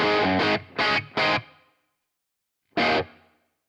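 Three quick strummed guitar chords ring out with a long reverb tail fading into silence, then one more strum after a pause.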